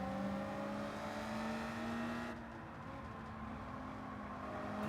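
Engine of a Honda NSX Type R in a racing video game, a steady, fairly quiet tonal drone whose pitch climbs smoothly as it revs, heard alone without talk.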